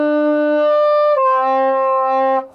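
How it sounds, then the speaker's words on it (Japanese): A sustained, buzzy soprano saxophone wolf tone, a growling low note that breaks and shifts pitch partway through, sounding strained and unstable before cutting off. "そういう風なこう狼の声っぽい音が出るとウルフって言うんです"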